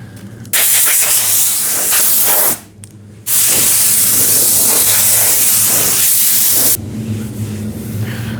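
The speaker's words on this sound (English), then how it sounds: "we're going to be spraying this again. This will be our final coat" A spray gun lays a final finish coat onto a walnut and butternut tabletop, giving a loud, steady hiss in two long bursts separated by a short pause, then a quieter tail.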